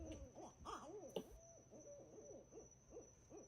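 Barred owls hooting in a Florida setting, a series of rhythmic, rising and falling hoots repeating steadily at moderate distance, fairly faint with a steady background hum.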